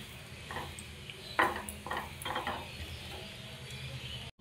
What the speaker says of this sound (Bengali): দিয়ে খুব ভালোভাবে এটাকে মেশাবো